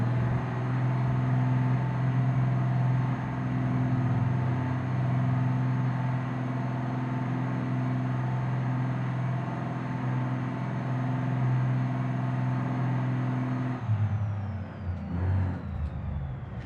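A heavy truck engine in BeamNG.drive labors steadily uphill in first gear at a construction site, a loud sustained drone with a high whine, then drops off and shifts abruptly near the end.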